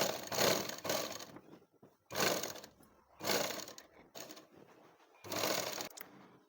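A sewing machine stitches a sleeve onto a shoulder seam in four or five short whirring bursts separated by brief pauses, close but fairly soft.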